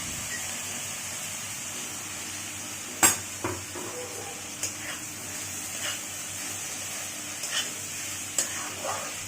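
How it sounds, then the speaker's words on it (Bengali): Chow mein with egg and chicken stirred in a pan, faint sizzle with a few soft scraping and clinking strokes spaced apart, no talking. "এরপর চাউমিন দিয়ে একটু নাড়িয়ে নিয়েছি।"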